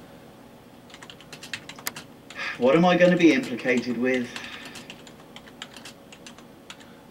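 Typing on a computer keyboard, heard as scattered quiet key clicks in short runs, while a voice briefly talks over the middle.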